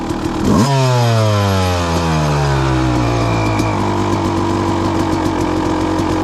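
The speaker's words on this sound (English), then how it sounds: "A very nice idle." A two-stroke engine fitted with a Lectron Pro carburetor revs briefly and then drops into a loud, steady idle, its buzzing note falling and settling close by.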